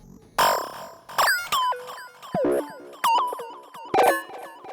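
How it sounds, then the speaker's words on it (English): Sample-and-hold effects synth preset for psytechno in Ableton Live: a run of bright, rapidly stepping pitched blips with swooping pitch shifts and delay tails, loud and close, arriving in uneven bursts about every second. "The next sound is a sort of sample and hold effects"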